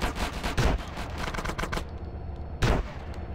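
Gunfire in the video game GTA: San Andreas: rapid bursts of shots crackle in quick succession, then a pause and a final loud shot, with no talking.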